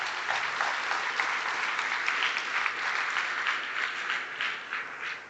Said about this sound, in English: A big round of applause for all the alumni and their families.